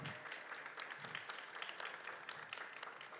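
A crowd applauds a family being presented a gift at a Christmas carol service in St. Stephen's CSI Church, Chelachuvadu; steady, dense clapping fills the hall without pause.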